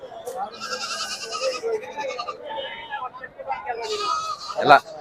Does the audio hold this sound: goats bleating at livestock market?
yes